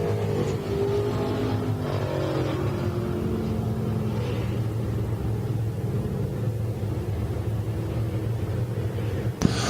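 Race cars circle a dirt speedway during a feature race, a steady loud engine drone with layered rumbling tones and a brief sharp crack near the end.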